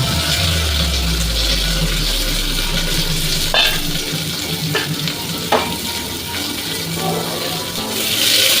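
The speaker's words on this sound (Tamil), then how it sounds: "கொஞ்சம் கருவேப்பிலை போட்டு நல்லா கலரிக்கிறேன்" Curry leaves fry and get stirred in hot oil for a simple sambar, a loud steady sizzle with a few sharp utensil scrapes and knocks against the pan, close and continuous with no speech.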